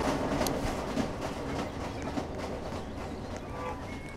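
Train riding along the tracks in the Roblox game Jailbreak, a loud continuous rumble with rhythmic clickety-clack beats throughout, close and steady.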